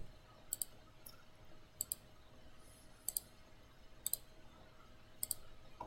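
A computer mouse clicks while placing floors in Revit 2019, five crisp double clicks spaced about a second apart, quiet and close over faint room hum, with no talking.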